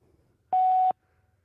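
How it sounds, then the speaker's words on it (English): A voicemail recording beep sounds once as a single steady electronic tone lasting about half a second, loud and clean against near silence. "All right, I'm gonna leave a voicemail."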